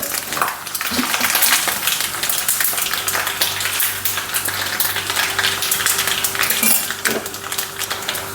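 Mustard seeds spluttering in hot coconut oil in a pan, a steady crackling sizzle with sharp pops and faint metallic utensil clinks throughout, close and fairly loud with no talking.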